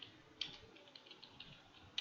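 Faint, quiet typing on a computer keyboard, scattered keystrokes with a couple of sharper taps, entering online lecture event details in a calendar.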